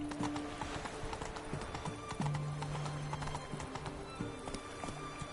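Horse Roach galloping in The Witcher 3, a steady rapid clip-clop of hooves under a continuous game soundscape with faint tonal music, moderately loud throughout.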